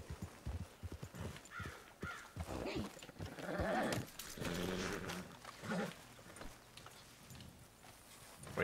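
Horse hooves clip-clop in a quick uneven rhythm at low level in Red Dead Redemption 2, with scattered clatter and a few bleat-like animal calls.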